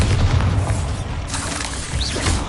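Bombarda spell blasts in the Hogwarts Legacy video game, a dense run of booming, rumbling explosions with crackling debris, loud and close, continuing without pause and with no voices.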